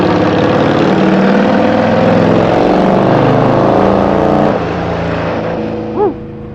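A powerful, heavy motorcycle of around mid 500 pounds is ridden, its engine giving a steady, loud mid-pitched drone that drops slightly near the end, followed by a brief rising whine.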